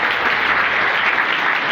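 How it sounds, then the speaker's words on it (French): An indoor audience applauds warmly, a dense, even burst of many hands clapping close and loud, sustained without talk for nearly two seconds. "Monsieur et dames, je vous prie d'applaudir bien chaleureusement."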